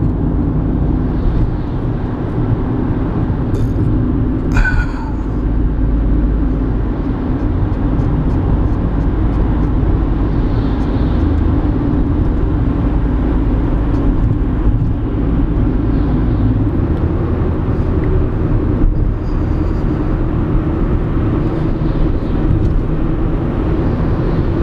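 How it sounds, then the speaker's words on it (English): A car is heard from the back seat while driving, a continuous loud low rumble of engine and road noise with faint clicks and no talk. "We're in a car. We're driving."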